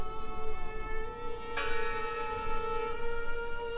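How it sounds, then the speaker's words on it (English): A church bell rings in the video game Draugen, its sustained metallic tone hanging steadily with one fresh strike partway through, alone over a low ambient rumble. "The bell's still ringing. Let's check inside the church."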